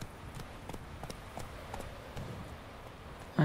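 Horse hooves clip-clop at a steady trotting rhythm in The Witcher 3, a lone horse on a road, moderately quiet and close, with no talk over it.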